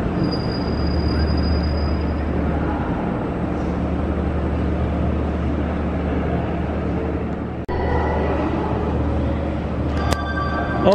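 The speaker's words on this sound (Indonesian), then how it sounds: "Oke, ini dia guys, kereta lokal dari arah barat tujuan ke Cicalengka." A local commuter train bound for Cicalengka rumbles steadily through Gedebage station in Indonesia, wheels grinding on rails at close range, with a sharp metallic squeal near the end.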